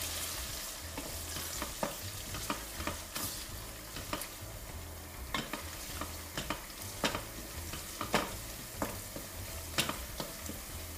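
Onions soften while frying in a pot with a steady close sizzle, broken by a regular rhythm of scraping stirs and light knocks of the spoon against the pot, all without talking; they are being cooked for a Sfax-style fish couscous broth.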